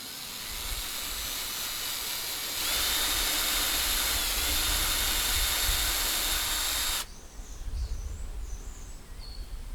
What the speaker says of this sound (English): we'll drill a hole in this sucker and get it ready to go